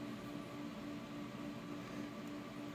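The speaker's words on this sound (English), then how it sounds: "you can hear the actual cooling system of the Alpha server running in the background" A steady, loud whir of cooling fans in an AlphaServer DS25 with dual 1GHz Alpha CPUs runs without a break, with a constant low hum beneath it.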